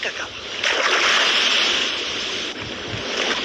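Sea waves wash onto a sandy beach in a steady, loud roar of surf with wind rushing across the microphone, continuous for a few seconds with a brief dip partway through.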